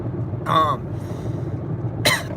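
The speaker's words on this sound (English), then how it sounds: "Oh, it still hurts to cough." Two short coughs, one near the start and another near the end, each a brief burst against a steady low background rumble.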